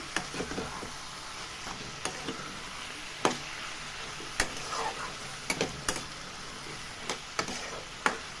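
Bottle gourd with a little sugar is stirred in a pan, making soft sizzling under a series of sharp spoon taps and scrapes against the metal, close and fairly quiet.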